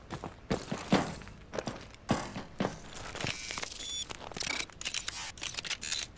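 Mag grip gloves clamp onto a wall in a Call of Duty Advanced Warfare mission, a run of sharp metallic thunks and clicks, irregular and close, with faint scraping between grabs and no talk.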